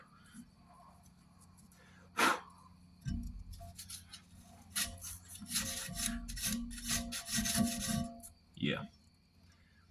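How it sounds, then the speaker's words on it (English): Sandpaper or emery cloth rubs over a handmade knife blade in a rough bladesmithing setup, scattered short rasping strokes that cluster into a quick scratchy run near the end, close and fairly quiet, with a brief spoken word. "I probably need a new piece of sandpaper or emery cloth"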